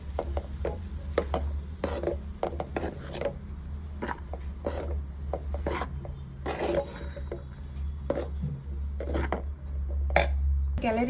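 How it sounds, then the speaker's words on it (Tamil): Cooked rice in a pan is stirred with a spoon, giving intermittent scraping and clinking strokes close by over a low steady hum. "இப்போ கொஞ்சம் கொஞ்சமாக நம்ம வந்து அப்படியே சாப்பாடை கிளறி எடுத்துக்கலாம்."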